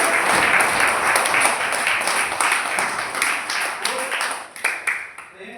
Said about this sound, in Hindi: हम कहेंगे जीएसआरसी के लिए एक बार जोरदार ताली।